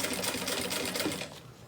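Sewing machine stitching a plastic canvas beach bag: a steady, fast needle chatter close up, easing off and dropping quieter toward the end.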